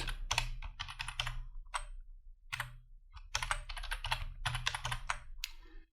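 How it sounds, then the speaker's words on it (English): A computer keyboard is typed on close up as a password is entered, with quick clusters of crisp key clicks separated by short pauses and no talking. "I will type the password."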